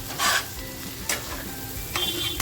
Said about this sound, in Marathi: आपली भुर्जी आणि अंड छान असं मिक्स झालेलं आहे